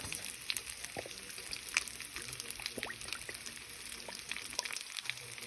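Pork chops frying in olive oil in a pan, giving a steady soft sizzle with scattered small crackles and pops, fairly quiet and close, with no talking.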